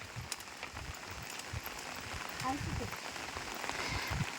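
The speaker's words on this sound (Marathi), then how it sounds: "आता पावसाला नेमकं आत्ताच यायचं होतं ना" Light rain pattering on a surface in Chiplun in the Konkan region, a soft steady hiss with scattered drips and brief faint sounds mixed in.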